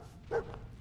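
A single short bark from the dog companion Dogmeat in the Fallout 4 video game, quiet and close, standing alone against low background sound.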